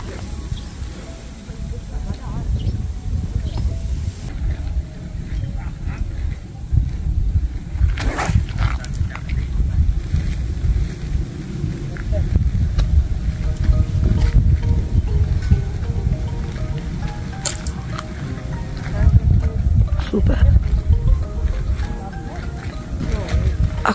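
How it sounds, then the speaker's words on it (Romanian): Wind blows outdoors at a competition in Periș, buffeting the microphone as a continuous, gusty low rumble under people talking nearby. "Bate vântul în partea stângă."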